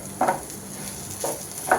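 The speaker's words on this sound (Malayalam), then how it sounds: "ഇനി ഇതിലേക്ക് നമ്മൾ ഈ സവോള വഴറ്റിയത് ഒന്ന് മിക്സ് ചെയ്യണം." Fried sausage mixed with sautéed onions is stirred in a pan, giving three short scraping clatters over a soft, steady sizzle.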